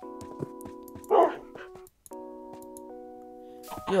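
A Minecraft puppy gives a few short barks and yips between sustained in-game music tones, fairly close and clear, with brief gaps of silence.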